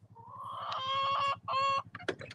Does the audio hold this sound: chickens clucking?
yes